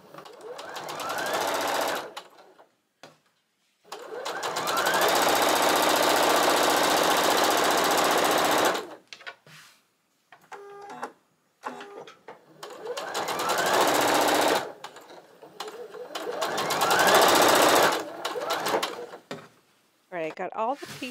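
Sewing machine stitching quilt blocks with a quarter-inch seam, loud steady whirring bursts of several seconds each with short pauses between, the motor running close by.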